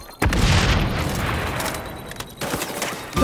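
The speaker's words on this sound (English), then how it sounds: "Chucking grenade!" A grenade blast in the shooter game XDefiant: a sudden loud boom that rolls into a long, dense rumble of debris and crackle, fading over two seconds before a second burst of noise hits near the end.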